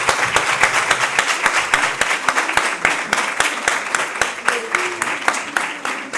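An audience applauds the interpreters at a session of a meeting series in Coimbra, with sharp, steady clapping that stays loud and even throughout.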